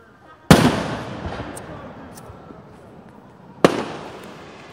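Two loud, sharp fireworks bursts on July 4th in Ridgewood, each a sudden crack followed by a long crackling, fading tail, spaced about three seconds apart, with faint voices nearby.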